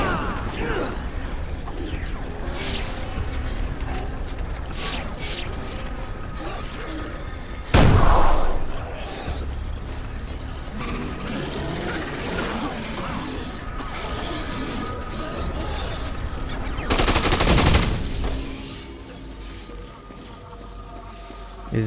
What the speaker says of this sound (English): Really not appreciating the throw up gun.